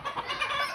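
Chickens cluck in a brief, fairly faint burst of scratchy, mid-pitched calls in the background, with no talk over them.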